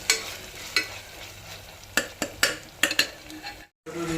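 Ginger garlic paste frying in a pan, with a spoon clinking and scraping against the metal in uneven strokes over a low sizzle, close by, with a short silent gap near the end.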